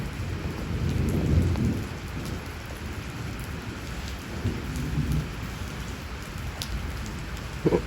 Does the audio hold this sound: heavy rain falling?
yes